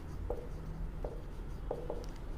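A pen scratches on paper while a maths problem about a square is written out by hand, with faint short strokes at an uneven rhythm.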